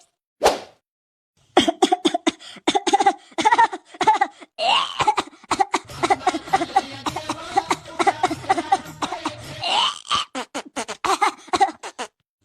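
Someone coughs repeatedly in rough, uneven bursts, mixed with sharp knocks and voices nearby, loud and close.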